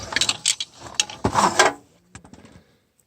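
Wrench works on 18mm transmission mount nuts of a Volvo, a series of quick metallic ratcheting clicks and clanks in close bursts, fading out near the end.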